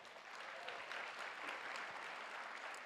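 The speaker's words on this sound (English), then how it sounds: "one more round of applause for all the judges" Steady audience applause fills a pageant hall, a dense, even clatter of many hands clapping close by for the full stretch without voices on top.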